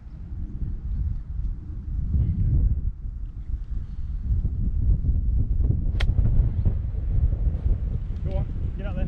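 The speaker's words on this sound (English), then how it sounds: "The wind is blowing, as you can see." Wind gusts roar and buffet the microphone on an open golf course at the Isle of Purbeck Golf Club, a loud, steady rumble that swells and eases throughout.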